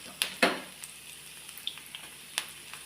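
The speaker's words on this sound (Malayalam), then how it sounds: "ഇനി ഇതിലേക്ക് വറ്റൽമുളകാണ് ഇട്ട് കൊടുക്കുന്നത്." Dried red chillies dropped into hot oil for curd rice, giving a soft sizzle with a few sharp crackling pops near the start and scattered light spits after, quiet and close with no talk.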